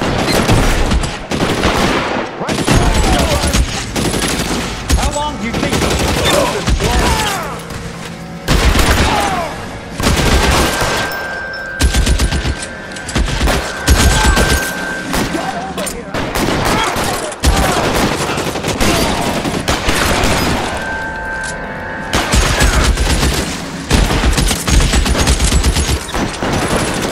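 Gunfire in the L.A. Noire video game rings out in loud, repeated bursts and volleys over nearly half a minute, with short gaps between shots and voices talking in between.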